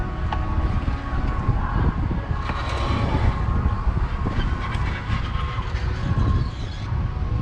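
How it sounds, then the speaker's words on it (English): Strong wind buffets an outdoor microphone at a monster truck event in London, Ontario, a loud, continuous low rumble with gusty surges and no voices. "Little windy, eh?"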